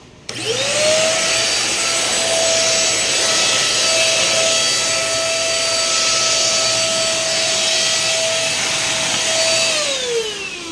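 A vacuum cleaner motor whirs up, runs steadily with a loud, even roar and high whine while sucking up pet hair, then winds down at the end.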